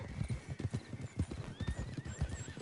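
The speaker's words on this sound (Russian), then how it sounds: "лошади чуть-чуть увидели меня и все, сразу бежать" Horses gallop away in Red Dead Redemption 2 Online on PS4 Pro, a rapid, close run of hoofbeats with a whinny partway through.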